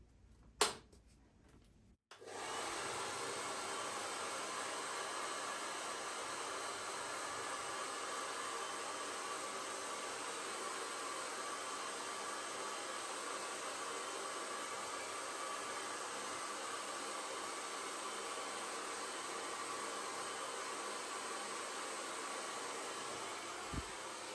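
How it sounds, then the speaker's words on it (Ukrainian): After a short click and a moment of quiet, a hair dryer switches on and blows with a steady, airy roar that continues unbroken to the end. "Беремо фен і продуваємо."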